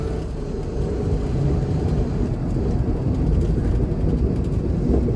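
An Infiniti G35 pushing a snow plow scrapes through snow down to the gravel, giving a heavy continuous low rumble and grinding that stays loud and close throughout.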